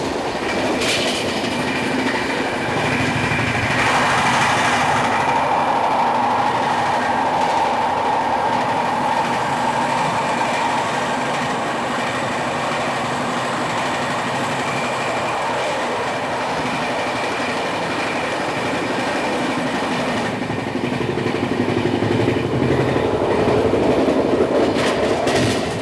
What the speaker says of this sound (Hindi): overtaking Jammu Pune Jhelum express